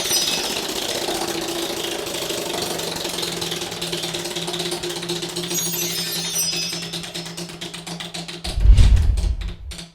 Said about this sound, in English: Salvador Garcia, go ahead and spin the wheel for us.